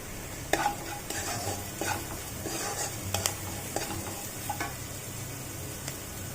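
Vegetables frying with rock salt and turmeric for sabudana pulao while being stirred, a soft ongoing sizzle under repeated scraping and tapping of the spoon against the pan, close and fairly quiet.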